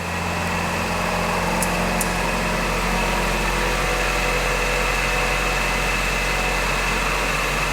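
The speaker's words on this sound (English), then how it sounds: "Turn the AC on. Compressor came on." A Toyota RAV4 idles with its air conditioning compressor engaged, giving a steady close hum and whir with a constant low drone and a faint high tone, unbroken and without voices.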